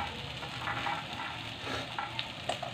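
Chopped onion sizzling in a hot pan as the base for a chicken curry, a steady soft crackle with a few sharper spits near the end, no talk.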